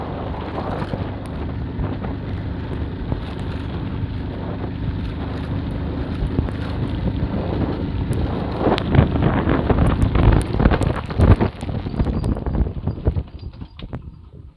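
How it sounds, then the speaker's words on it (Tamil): Heavy rain during a motorbike ride, a dense roar of rain and wind buffeting close to the microphone that builds louder toward the end before fading out. "மழை வேறு பயங்கரமாக பெய்யுதுங்க"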